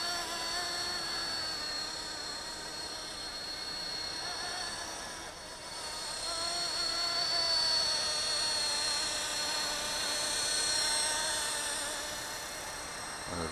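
A Heli-Max 200 FP V-Cam radio-controlled model helicopter flying at night gives a steady whining drone with bright high-pitched rotor and motor tones, continuous and fairly close, swelling slightly midway, no voices.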